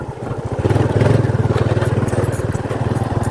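Small Honda XRM motorbike riding a rough, uneven road, engine thrumming in a fast steady pulse up close, loud and continuous with some clatter.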